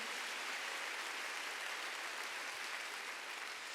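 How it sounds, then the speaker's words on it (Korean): A church congregation applauds during a Wednesday worship service, a steady even wash of many hands clapping heard at a distance, fairly faint and continuous throughout. "박수로 하세요."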